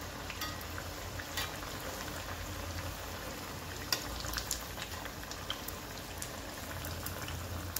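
Batter-coated paneer 65 fries in a kadhai of hot oil with a steady, bubbling sizzle and scattered sharp crackles and pops, close and continuous.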